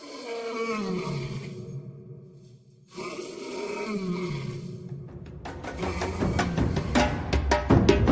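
A lion roars at dawn in Niokolo-Koba, Senegal, in two long, deep, rumbling bouts, followed by a series of shorter grunting roars, close and powerful.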